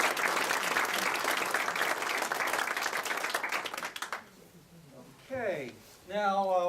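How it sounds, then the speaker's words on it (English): Audience applause for club past presidents at an amateur radio society's 50th anniversary gathering, a dense burst of clapping for about four seconds that fades out, followed by someone speaking. "Let's give them a round of applause."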